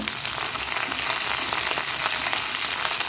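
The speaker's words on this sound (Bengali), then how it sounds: "এবার আমি ভেন্ডিগুলোও দিয়ে দিচ্ছি ভেন্ডিগুলো দিয়ে দিচ্ছি আর এখানে আলু আছে পেঁয়াজ আছে লঙ্কা" Okra fries in oil along with potato, onion and green chilli, giving a dense, continuous hiss of sizzling that holds steady and close throughout, with no talk.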